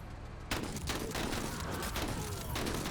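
Shotgun fire in the turn-based tactical game Menace: after a quiet start, a sudden blast opens a dense stretch of overlapping gunfire and booming reports, moderately loud and continuous.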